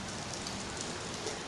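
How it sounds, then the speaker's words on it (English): Steady rain falls on a surface outdoors, a dense even hiss of drops with no pauses, moderately near and unbroken throughout. "the rain is cleansing and clearing"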